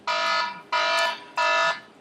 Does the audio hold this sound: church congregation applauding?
no